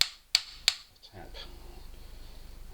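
Sharp metallic taps as a pin is driven out of a Tanfoglio pistol frame, three quick clicks close together near the mic, followed by a faint softer knock and low background hum.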